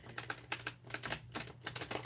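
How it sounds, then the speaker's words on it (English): Tarot cards are shuffled close up, a fast run of crisp, clicking riffles in uneven bursts with no voices. "so I'm going to start shuffling"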